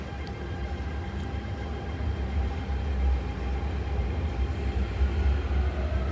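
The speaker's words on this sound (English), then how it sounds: "The train to Tung Chung is arriving." A Hong Kong metro train bound for Tung Chung rumbles into Kowloon Station, a deep low roar building steadily with faint squeals and rail noise above it, no voices.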